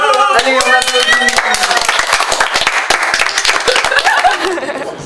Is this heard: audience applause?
yes